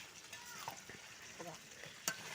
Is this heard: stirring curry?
yes